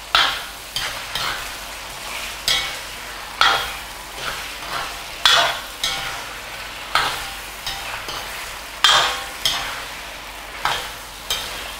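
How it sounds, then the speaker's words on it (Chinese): Chicken pieces stir-fried in oil in a wok without blanching, with rhythmic scraping strokes of a spatula repeating about once a second over a constant sizzle, loud and close, with no talk. "这个鸡不用拿水焯啊，直接炒"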